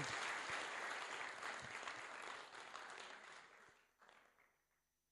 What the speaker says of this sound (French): Merci beaucoup, on peut les applaudir vraiment.